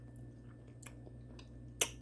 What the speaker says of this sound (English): let's taste the yams and see how they turned out